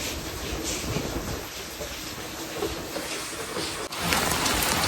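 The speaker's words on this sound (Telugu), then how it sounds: "సన్న వర్షం పడుతూనే ఉంది" Steady light rain patters continuously across a broad wash of noise, with a brief dip near the end before the hiss returns.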